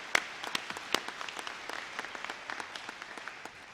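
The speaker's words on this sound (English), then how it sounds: "If we could give them just a quick round of applause." A small group at a university commencement ceremony applauds, scattered claps forming a brief, modest round of applause that tapers off toward the end.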